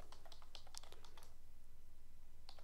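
Fingers type a project name on a computer keyboard in quick, irregular bursts of soft clicks, a flurry in the first second and a half, then a pause and a few last taps, faint and close over a low hum.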